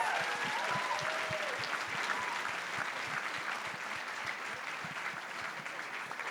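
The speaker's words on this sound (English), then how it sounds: "if we could have one final round of applause for our panel members." Faint applause for panel members at an AmeriCorps anniversary celebration, steady crowd clapping from a distance with individual claps distinct, continuous and soft throughout.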